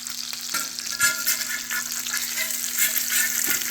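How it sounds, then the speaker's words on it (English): Food sizzles on a 21-inch VEVOR commercial electric griddle while a spatula scrapes and stirs across the hot surface, a close, steady frying hiss with short scraping strokes. "I just love being able to scrape the pan"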